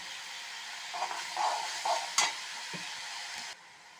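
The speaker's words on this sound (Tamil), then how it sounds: "நல்லா ஒரு கிளறு கிளறிட்டு" Ivy gourd chutney stirred in a pan, a few soft scraping strokes of a spoon against the pan over a steady sizzling hiss, close and moderately loud, with no talk.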